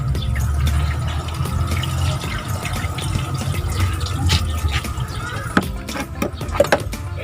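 Water pours steadily into a car radiator being checked for a leak, a continuous splashing fill with drips near the end, close and fairly loud, with no talk.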